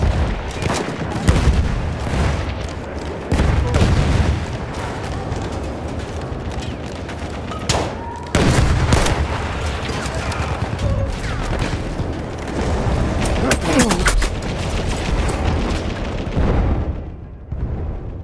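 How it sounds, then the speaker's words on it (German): Loud, dense combat din in Battlefield 1: grenade blasts and booming explosions mixed with steady gunfire, with sharp impacts near 8 seconds, fading at the end. "Ich werf eine Granate auf,"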